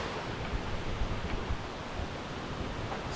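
Steady rushing water at a Georgia waterfall, a dense unbroken roar that stays loud and constant throughout with no talk.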